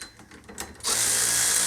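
Impact wrench working on a car's wheel hub, coming in as a sudden loud burst of buzzing rattle after quieter shop noise and holding steady to the end.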